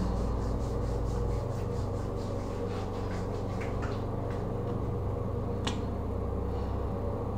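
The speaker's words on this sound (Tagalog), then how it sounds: "kuskusin talaga yung mga kasingit-singitan" Skin being scrubbed with a body scrub, a continuous close rubbing and rasping sound over a steady low background hum, with no talk.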